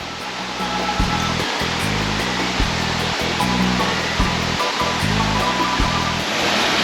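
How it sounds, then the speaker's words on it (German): Small waterfall on the Caribbean island of St. Vincent, a steady, broadband rush of falling water, constant and fairly close, with a repeating low rhythmic thumping underneath and no talk. "Wir haben die Sparversion vom Wasserfall genommen."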